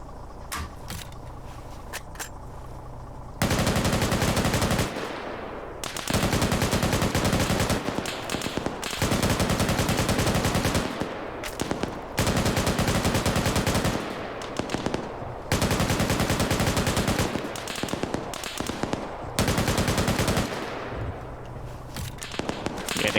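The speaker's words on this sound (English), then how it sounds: "gunshots going off from that other cell" Rapid automatic gunfire from a video game rattles in long loud bursts, separated by brief pauses of quieter ambience, with the shooting coming from a nearby cell.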